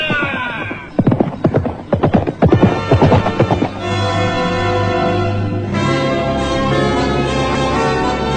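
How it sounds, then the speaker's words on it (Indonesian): A soldier's horse clip-clops along with quick, loud hoofbeats, then slows as a sustained ringing bell tone and low drone take over, with a faint voice in the background. "Setelah beberapa saat lamanya berkuda, laki-laki itu mengarahkan kudanya menuju ke halaman rumah kediaman sang Ramapati."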